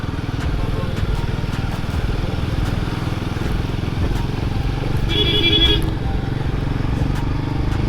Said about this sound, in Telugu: ప్రజెంట్ అయితే మనం ఈ డర్ట్ వాటర్లోనే వెళ్తున్నాము, మురికి నీళ్ళల్లో